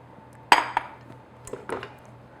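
Metal spoon stirring thick choux pastry dough in a saucepan, a few close clanks and scrapes against the pan, the first the loudest, with no talk.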